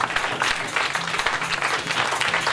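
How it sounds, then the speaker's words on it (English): Church congregation clapping at a December Thanksgiving service, a dense, steady burst of many hands filling the room loudly and continuously from start to finish, with no speech over it. "Make it a wonderful clap of it."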